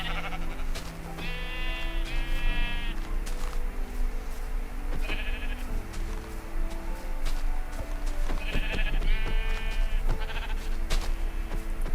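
Sheep bleat in a Minecraft survival game in short wavering cries, two pairs close together near the start and two more near the end, over steady background game sounds.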